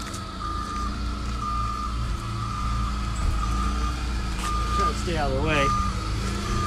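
Steady reversing beeps from a delivery truck unloading stone slabs at a granite and marble countertop shop, pulsing over a constant engine idle, with people talking nearby.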